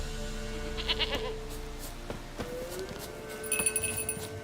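In The Witcher 3, a goat gives repeated bleats, a few short wavering cries rising over ambient game music and background sound with no talking.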